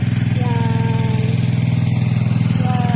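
Pool vacuum machine running with a steady pulsing motor drone while it sucks water from a pool, loud and close, with a voice talking over it.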